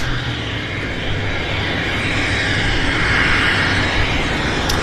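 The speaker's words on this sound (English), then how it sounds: "He's cleared to take off." A heavy airliner departs Vancouver Airport, its jet roar loud and steady as it takes off, with broadband rushing noise building slightly over the seconds.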